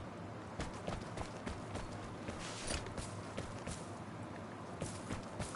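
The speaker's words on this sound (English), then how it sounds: "I thought I heard footsteps." Footsteps in a video game: a quick run of faint, uneven thuds and crunches over a soft background hum. The steps are close but quiet and come in no fixed rhythm.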